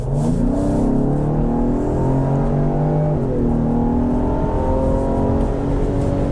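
A 2022 Ford Explorer King Ranch engine roars steadily as it accelerates hard to 70 mph on a one-lane road, a loud continuous drone with rising tones and road noise, heard from inside.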